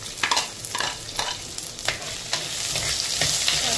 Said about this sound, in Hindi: मागीर वयतलो ऑनियन, कित्याक हांवें ऑनियन वांटूंक ना, तो हांव फ्राय करता